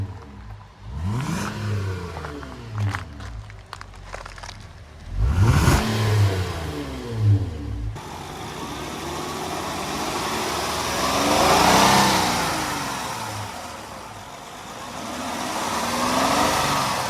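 Honda Odyssey minivan with a 3.5 liter VTEC V6, high mileage, fourth generation, engine revving and accelerating in several sweeping pulls, the last one a long, smooth rise and fall, fairly close and loud with no talk.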